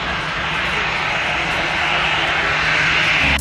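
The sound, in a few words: airplane engine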